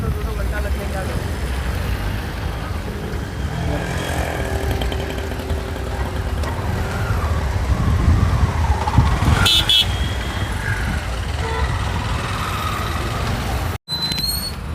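Dense road traffic on a jammed street, cars and motorcycles rumbling and idling close by in a steady unbroken wash, with voices talking over it and a brief sharp cut near the end.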